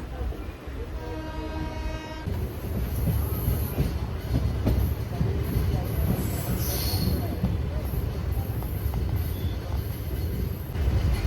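Riding inside a moving Vasai–Panvel train near Panvel: a loud, continuous rumble with rhythmic wheel clatter, after a brief high tonal whine at the start.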